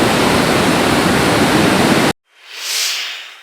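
Water rushes through four opened spill gates at the Dumbul-Oya reservoir in Sri Lanka, a loud broadband roar that cuts off abruptly, followed by a softer swelling rush that rises and fades.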